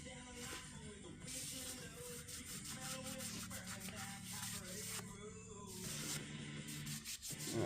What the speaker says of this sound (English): We're going to clean this up, clean all these facings off, make sure they're dry